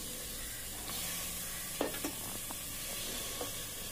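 Mixed vegetables such as beans, carrot, yam, drumstick, raw mango and brinjal sizzle in a hot pan for an aviyal curry while being stirred, with a few sharp scraping clicks from the spoon.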